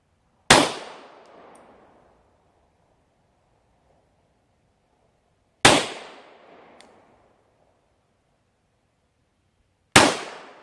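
Three single pistol shots at an outdoor shooting range, each a sharp, loud crack followed by a fading ringing echo, spaced about five seconds apart with silence between.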